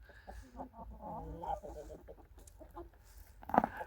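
Mechelen Cuckoo hens cluck softly in a poultry yard, a few low murmuring calls near the start and one sharper squawk toward the end, faint and close, with a quiet voice in the background.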